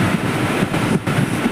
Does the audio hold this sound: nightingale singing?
no